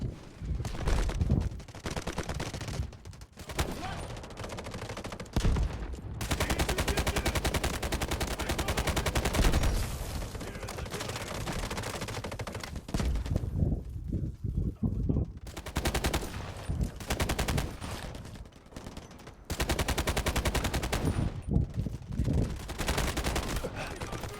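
A custom-modded gun firing in Delta Force: Hawk Ops, with loud sustained automatic bursts broken by short pauses and a few gaps, running nearly the whole time.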